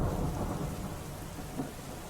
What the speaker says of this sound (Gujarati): ભારે હવા અને ધોધમાર વરસાદ જે છે તે જોવા મળ્યો.